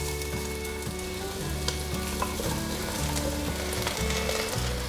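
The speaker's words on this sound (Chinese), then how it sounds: "翻炒至红萝卜变色后，现在放入白萝卜，" Carrot and white radish stir-fried in a wok for a vegan home-style dish, giving a steady close sizzle and frying hiss with repeated scraping stir strokes in a regular rhythm, and no talk.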